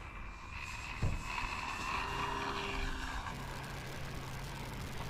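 FMS Pilatus PC-21 1100mm RC model plane with a 10.5x7 propeller takes off, a steady buzzing motor and prop drone heard from a moderate distance against wind and outdoor background, no talking.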